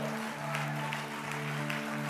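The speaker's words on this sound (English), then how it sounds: "Can we get another round of applause for Pastor Lewis?" Church congregation applauding for a pastor during a service, a steady wash of clapping with sustained organ or music tones underneath throughout.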